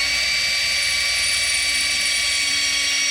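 A small drill bit bores into stainless steel, giving a steady high-pitched whine with a bright sustained tone that stays level and alone for about three seconds.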